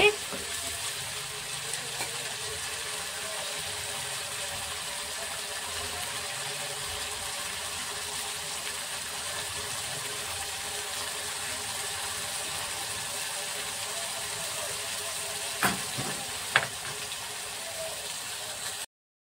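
Yogurt stirred into a cauliflower roast sizzles steadily in a hot pan, a continuous near hiss with a couple of brief knocks near the end.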